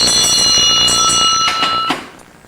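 Several rapid strikes of a bell used as a Shouter Baptist symbol in Tobago ring out loud and bright, their overlapping tones sustaining before fading toward the end.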